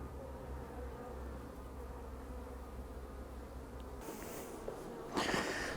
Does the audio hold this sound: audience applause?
no